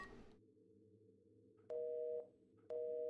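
A telephone busy signal sounds in a video game right after zero is dialed. Two loud, steady tone bursts, each about half a second long, start a second apart over a quiet background hum.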